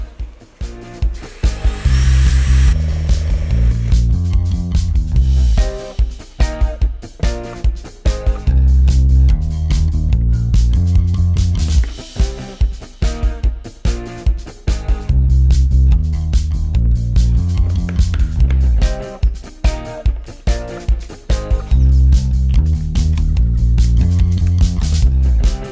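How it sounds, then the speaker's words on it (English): Power drill boring a 32mm hole through plastic Tupperware lids, close and loud, in repeated bursts of whining motor separated by short pauses. "Drill a 32mm hole in the Tupperware lids."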